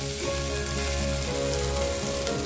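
Mirchu frying in hot oil in a pan gives a steady, close sizzle with a fine crackle, constant and even throughout, with a faint low hum underneath.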